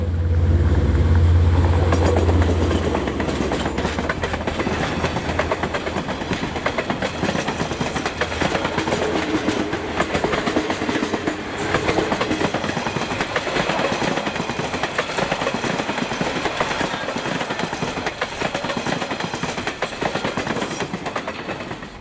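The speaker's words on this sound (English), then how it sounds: "The ballast cleaner conveyor train passing through Huntly." A heavy ballast cleaner conveyor train rumbles steadily past at close range through Huntly, New Zealand, with continuous clattering and grinding of wheels and machinery.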